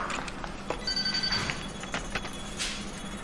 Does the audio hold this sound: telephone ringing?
yes